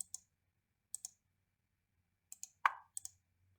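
Computer mouse buttons click crisply and close up during schematic design work, in small pairs and singles with quiet pauses between, against near silence.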